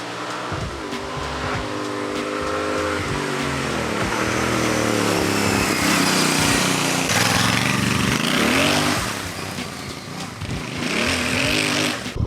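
A Royal Enfield Bear 650 motorcycle's twin-cylinder engine hums and revs steadily while riding, rising and falling through the gears, loud and close, with wind rush and no talk.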